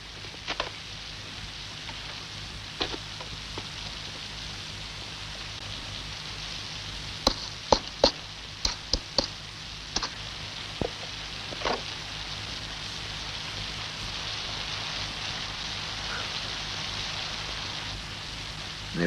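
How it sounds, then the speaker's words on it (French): Steady, soft rain hissing throughout, with a scattering of sharper drips and taps landing near the middle. "Nous attendrons ici qu'il cesse de pleuvoir."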